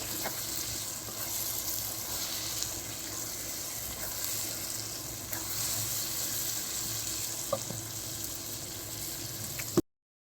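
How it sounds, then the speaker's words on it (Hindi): Eggs, chopped onion, okra and spices fry in a pan with a continuous close sizzle and faint stirring clicks, running steadily without speech until it cuts off abruptly at the end. "अंडे, प्याज और भिंडी और सारे मसालों की अच्छी तरह से भुनाई कर लेंगे हम।"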